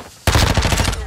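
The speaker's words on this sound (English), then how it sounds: "Yeah, flaming shotgun." A flaming shotgun fires in a video game, loud and close: a sudden blast breaks the quiet, then a rapid rattling burst of shots follows for under a second.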